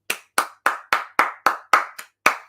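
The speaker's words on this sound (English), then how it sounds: "Let me go ahead and give him a round of applause." Nine sharp, close hand claps in a steady rhythm, evenly spaced with one slightly quicker clap near the end, a single person clapping alone with no voices.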